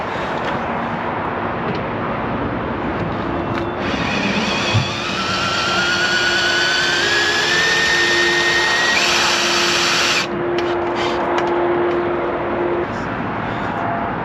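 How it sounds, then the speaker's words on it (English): A drill bores out a rivet in an Abarth car, giving a steady, loud, close whine that rises in pitch partway through and holds for several seconds before stopping. "I have never drilled a rivet out in my life, so I'm going to do it really slowly, really carefully"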